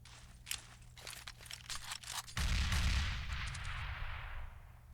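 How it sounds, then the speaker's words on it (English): Grenades explode in Counter-Strike on the Mirage map during a competitive match: a few sharp cracks and bursts give way to a loud, booming blast that rumbles heavily, then fades through a long, noisy tail. "Couple of nades exchanged down towards the bottom side of underpass."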